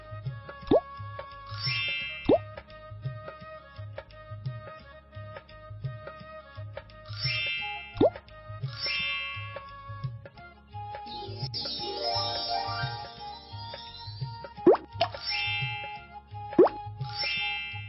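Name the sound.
ring dropped into pot of milk, searching, from a video game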